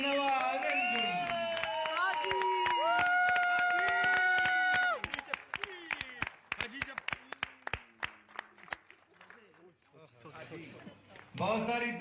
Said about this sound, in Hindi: बहुत सारी तालियां नवाज भाई के लिए।